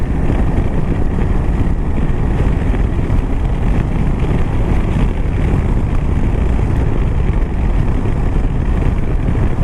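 Steady engine drone with heavy wind buffeting on a motorbike ride, a constant loud low rumble and roar that holds evenly throughout with no talking.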